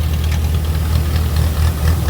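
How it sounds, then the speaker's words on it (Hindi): A tractor-mounted mini combine harvester with a 7-foot cutter, driven by a 60 HP tractor, cuts a mustard crop in the field, its engine a loud, steady, low rumbling drone throughout. "ये ट्रैक्टर वाली कंपाइन भाइयों, जिसका कटर 7 फीट है और ट्रैक्टर 60 HP का है"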